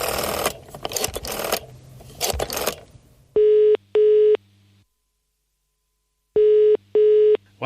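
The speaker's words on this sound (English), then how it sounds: "Why does it sound like I'm using a phone in the UK?" A UK-style telephone ring tone sounds in two pairs of clear double rings, separated by a silent pause, after some muffled rustling and handling noise.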